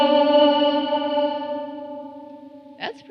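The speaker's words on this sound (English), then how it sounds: "Control 2 sets the length of the reverb trails." A sung vocal note passed through an Old Blood Noise Endeavors MAW vocal effects pedal set for long reverb trails, the tone hanging and slowly fading over about two seconds before a brief new vocal sound near the end.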